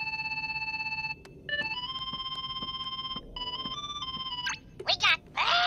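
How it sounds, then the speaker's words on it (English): Gummy phone ringing in the video game Kingdom Hearts 3, a bright electronic chime tone that rings in repeated bursts with short gaps, ending in a warbling flourish, while a voice speaks near the end. "somebody's calling us on the gummy phone"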